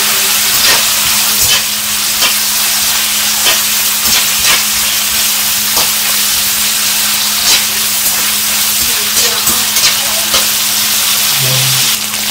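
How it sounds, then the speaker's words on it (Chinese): Cured Chinese bacon stir-frying in a hot wok with a few Sichuan peppercorns, a loud continuous sizzle and hiss with occasional scraping stirs, close up. "把腊肉也放进去煸炒。"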